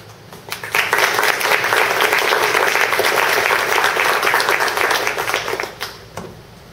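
A conference audience breaks into loud, dense applause for a speaker after a technical talk, swelling quickly, holding for about five seconds, then tapering off.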